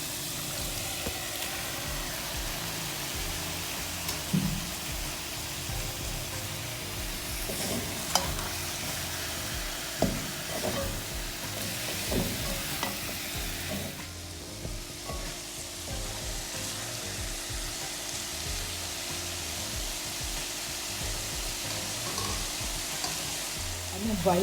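Chicken and shallow-fried vegetables stir-frying in a pan for chow mein, a steady loud sizzle with scraping stirs and occasional clinks throughout, a faint voice barely present.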